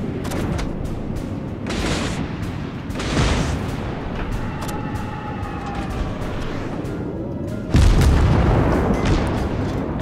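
Heavy naval guns boom from warships in a World of Warships battle, several deep blasts spread across the span over constant sea and engine rumble, with a loud close salvo near the end.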